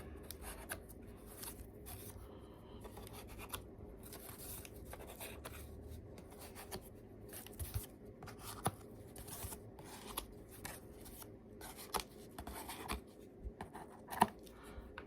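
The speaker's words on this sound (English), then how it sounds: "I'm just going to cut them." Scissors snip yarn on a circle weaving craft, a series of faint, irregular clicks and snips against soft rustling, close by and quiet, with no voices.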